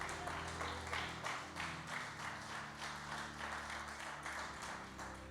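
Congregation applause during a church service, a faint steady wash of many hands clapping heard at a distance under a sustained low musical drone.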